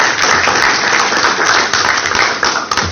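An audience at a book presentation applauds steadily, with dense, loud clapping sustained throughout and no voices over it.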